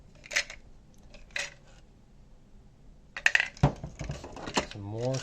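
Children's pastel tableware spoons and cups clatter during unboxing: a couple of isolated light clinks, a pause, then a busier burst of handling knocks, with a brief voice at the end.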